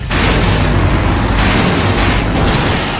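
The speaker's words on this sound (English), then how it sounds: "Now that's an explosion, ladies and gentlemen." A huge explosion in Full Throttle Remastered roars as a loud, sustained, rumbling blast with crackling debris, filling the whole moment with dense noise.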